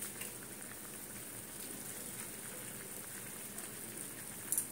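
Potato curry simmers in a pan, giving a faint, steady bubbling hiss like light rain, with a few slightly louder pops near the end.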